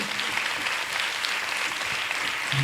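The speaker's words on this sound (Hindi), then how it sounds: "ये तालियां आपके अनंत अनंत उपकारों की हैं।" An audience at a religious Abhishek and Shantidhara ceremony in Chandragiri, Dongargarh, clapping. The applause is loud and sustained, a dense, steady roar of many hands with no break.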